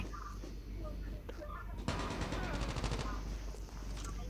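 A new gun fired in a video game lets off a loud rapid burst of automatic fire, with sporadic single shots before and after, while players talk excitedly over the shooting.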